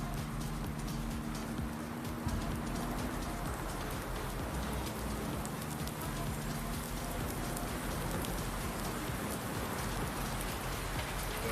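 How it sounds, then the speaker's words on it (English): Steady rain pouring down in Farming Simulator 19 on the Midwest Horizons map with the Seasons mod, a dense continuous hiss of drops that holds level throughout. "the rain's really starting to come down now"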